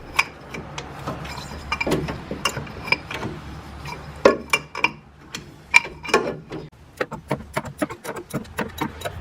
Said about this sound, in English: This bolt protests as if it's under a huge amount of torque, and it really isn't